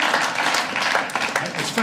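A comedy club audience claps at a stand-up show, a brief spatter of scattered applause rising and falling in under two seconds, fairly close and moderately loud with a murmur of crowd noise underneath.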